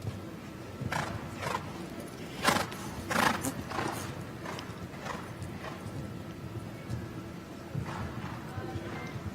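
Hooves of a show-jumping horse pound the ground at the Brickenden International Jumper Competition, a run of rhythmic galloping thuds with a few heavier strikes over open-air arena ambience.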